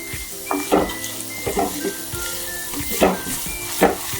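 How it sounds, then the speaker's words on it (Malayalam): Crushed spices sizzle and fry in a pan while being stirred for a spicy Kerala-style squid roast, with a steady frying hiss broken by repeated scraping stirs and a few faint clinks of the utensil against the pan. "പച്ചമണം മാറുന്നത് വരെ ഒന്ന് ഇളക്കി കൊടുക്കുക"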